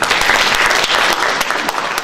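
Steady, dense applause from a festival crowd honoring a speaker at the Djeguele Festival, a continuous roar of clapping at close range with no voices standing out.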